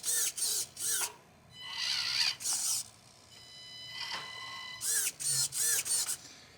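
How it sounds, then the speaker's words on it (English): An Emax analog metal-gear micro servo on an SCX24 Jeep lets out quick, loud, whirring mechanical buzzes in rapid clusters with short pauses between them, heard close up. "So there is the Emax analog servo on the SCX24. That thing sounds loud."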